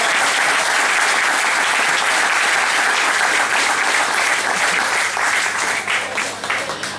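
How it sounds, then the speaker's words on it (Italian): Sustained audience applause fills a hospital hall in Cagliari during an Easter concert at the Oncologico, loud and dense throughout, thinning slightly toward the end. "quindi un applauso lo metto"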